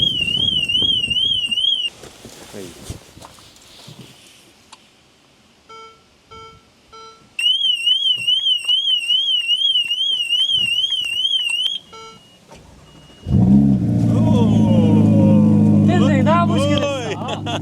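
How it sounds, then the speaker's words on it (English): A Ferrari Roma's alarm sounds in loud warbling bursts that stop, restart and stop again, with short beeps in the quiet gap between them, then a burst of loud mechanical noise near the end. "Hood up with a Ferrari alarm going off."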